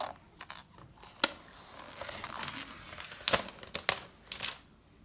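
Apple iPad 8th generation packaging being opened, with close crinkling, tearing and sharp clicks of plastic and cardboard in irregular bursts.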